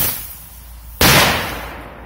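A small Blitz firecracker explodes once midway, a single sharp loud bang with a short decaying tail after a quiet outdoor lull.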